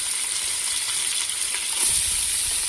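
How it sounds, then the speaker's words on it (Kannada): Chicken sizzling as it drops into hot oil in a cooker, a steady, bright hiss of frying that swells slightly near the end, close and loud with no voices. "ಇವಾಗ ಎಣ್ಣೆ ಬಿಸಿ ಆಗಿದೆ, ಚಿಕನ್ ಹಾಕ್ತಾ ಇದ್ದೀನಿ."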